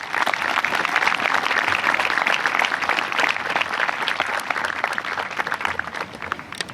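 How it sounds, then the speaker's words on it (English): Audience applause at a high school graduation ceremony as a speaker is welcomed, a loud, dense, sustained wash of many hands clapping that holds steady and eases slightly near the end. "Please join me in a round of applause"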